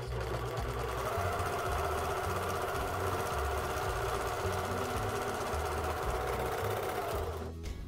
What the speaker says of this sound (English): you're just lining up the edge of the fabric with the edge on the serger. Just trimming it.